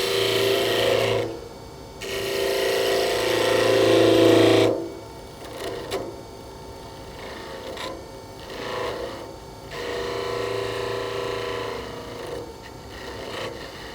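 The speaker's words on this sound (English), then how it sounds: "Clean up the edge as well in the same technique as before with the skew chisel." A skew chisel cuts red cedar on a wood lathe, making rasping, scraping bursts of a few seconds each, separated by quieter gaps, close and fairly soft.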